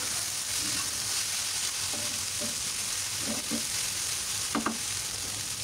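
Vegetable bhaji frying in a pan with cumin powder and garam masala, a steady close hiss of sizzling oil with a few soft clicks of stirring, no voices.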